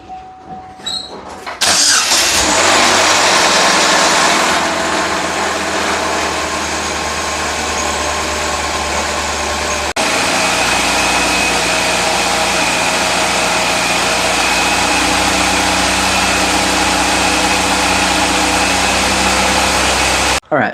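A Chevrolet Cobalt engine cranks and fires after a new catalytic converter replacement, then settles into a loud, steady idle for its break-in period, a constant close hum with no voices.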